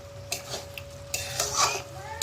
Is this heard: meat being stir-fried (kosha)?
yes